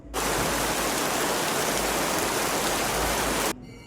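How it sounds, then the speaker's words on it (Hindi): Heavy rain pours down steadily outside at night, a dense, loud, continuous wash of downpour that stops abruptly near the end, leaving faint residual hiss. "बाहर मूसलाधार बारिश हो रही थी"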